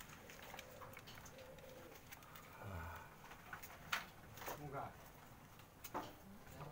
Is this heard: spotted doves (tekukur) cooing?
yes